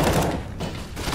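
Gunfire in the video game CS:GO, a quick burst of several sharp shots in close succession, fairly loud and tapering off within about a second, with no talk over it.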